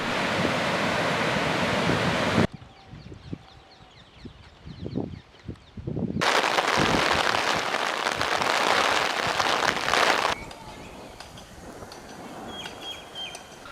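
Floodwater rushing from fourteen reservoir spill gates opened one foot, flooding low-lying ground near Kaluvanchikudy in Batticaloa: a loud, steady broadband roar in separate stretches, broken by abrupt cuts to quieter outdoor scenes.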